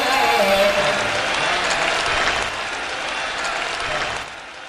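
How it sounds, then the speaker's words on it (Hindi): Scattered, uneven audience clapping at a live Urdu-Hindi poetry performance in Haldwani, the claps not in unison, forming a steady wash of noise that thins slightly toward the end, with a voice briefly audible at the start. "तालियां बिखरी है, एक साथ नहीं बज रही"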